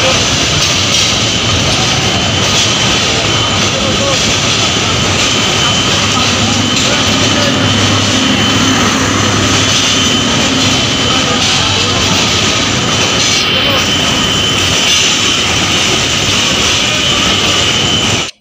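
A train rushes past, heard during a train journey: a loud, continuous roaring rumble with rattling that stays strong and steady for the whole stretch.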